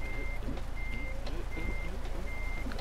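A truck's reversing alarm sounds four evenly spaced beeps over a low engine idle, with some voices faintly in the background.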